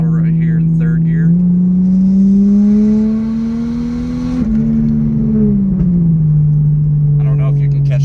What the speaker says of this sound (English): I'll try to give it full throttle right here in third gear.